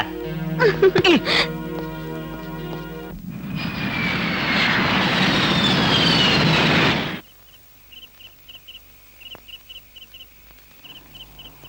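An airplane flying past as a sound effect in a Telugu comedy film scene: a loud, rising jet roar lasting about four seconds. It follows a burst of music and voices and drops off into quiet, faint ticking.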